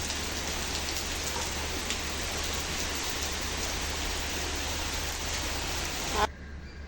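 Heavy rain falling steadily in a downpour with strong winds under dark clouds, a dense, even hiss that holds constant before cutting off abruptly near the end.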